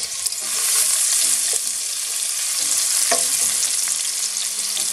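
Chopped garlic frying in a pan over medium heat gives a steady, loud, broadband sizzle throughout, with a few faint clinks and scrapes of a utensil and no voices.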